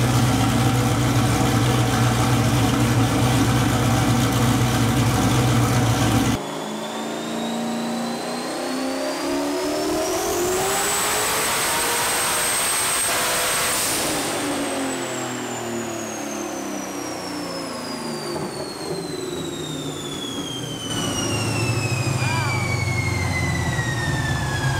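A turbocharged LS-swapped Mustang on a dyno roars at full load, then cuts off as a high turbo whistle rises and slowly winds down, with the engine settling back to idle at the end.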